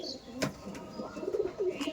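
Madrasi pigeons coo in a loft, soft low rolling calls repeating through the two seconds at moderate distance, with faint chirps and a brief sharper noise near the start.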